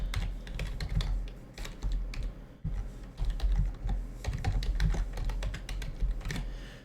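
A folder name typed on a computer keyboard, a close run of quick key clicks in uneven bursts, with a brief pause partway through.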